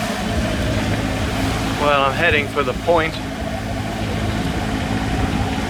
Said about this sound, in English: I'm going to start the engine now and get underway